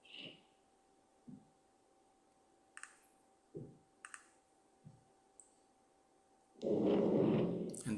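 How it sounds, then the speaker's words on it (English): Dragging and squeaking coming through from a neighbouring flat late at night: several short, muffled scrapes and knocks spread across the stretch, then a loud, sustained dragging rumble near the end, over a steady low hum. "this is the dragging that's happening pretty much"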